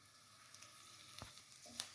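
Dried red chillies hitting hot coconut oil with curry leaves in a pan give a soft, steady sizzle, with a couple of brief crackling spits near the end.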